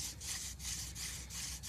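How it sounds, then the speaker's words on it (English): A blade cuts a fresh divot in wood for a notchless hand drill fire method, about five rhythmic rasping back-and-forth strokes close by and fairly quiet. "So I cut myself a fresh divot here, and we'll see how this goes."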